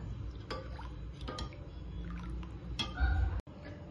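Water poured into a pot of tamarind and jaggery dal amti, faint splashing and liquid gurgles with a few sharp clinks, heard close and quiet.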